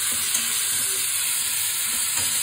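Vegetables sizzle in a nigella seed tempering for a fish-head chorchori, a steady, close frying hiss that runs unbroken and evenly loud with no talk.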